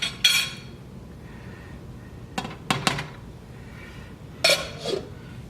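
Big soup spoon knocking and scraping in a pot of meatball soup with spinach and potatoes, several short clinks in bursts with quiet pauses between them, close by.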